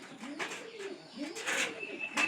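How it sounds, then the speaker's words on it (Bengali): Pigeons coo softly nearby, low rolling coos repeating in gentle waves mixed with faint chirps and rustling in a quiet setting. "অন্তত এই যে এই একটা পায়রার জন্যই"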